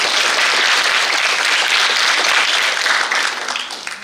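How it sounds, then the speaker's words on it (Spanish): An audience at a literary event on short stories applauds, dense sustained clapping that stays loud for several seconds and then tapers off slightly toward the end. "Es así que pido un fuerte aplauso para Elizabeth Monopoly Acker, Carlos Torres Fernández"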